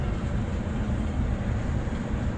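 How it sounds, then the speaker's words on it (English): A loud train rolls past close by, a steady broadband rumble and roar that holds for the whole stretch without easing. "It's loud. It's a loud train."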